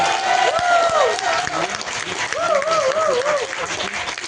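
Audience clapping at a Tamil pattimandram debate session, a dense steady patter of many hands running throughout, with a voice speaking over it.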